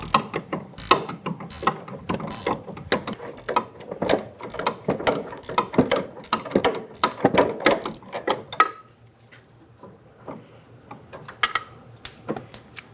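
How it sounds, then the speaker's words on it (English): A 15mm wrench removes the sway bar link nut on a 2000-2007 Ford Focus, giving a run of quick metallic ratcheting clicks up close, then a quieter stretch with scattered faint clicks. "Using a 15mm wrench, remove the nut."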